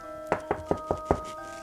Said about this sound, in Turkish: kapıyı çalmış